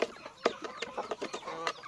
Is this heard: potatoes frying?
no